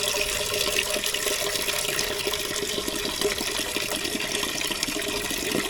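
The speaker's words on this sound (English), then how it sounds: "Alright, so wash the peas." Peas being washed in water, with steady running and splashing liquid continuing throughout at close range, no talking.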